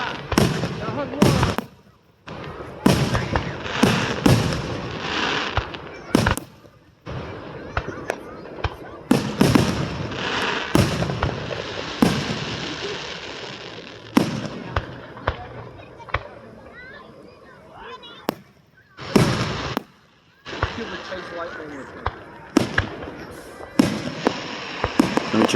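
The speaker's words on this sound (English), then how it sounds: "Can't really distinguish colors in fireworks, but I know there's probably cyan in there." Fourth of July fireworks with sparkling glitter effects burst repeatedly, sharp loud bangs followed by crackling fizz, with brief silent gaps between volleys and a voice talking at times.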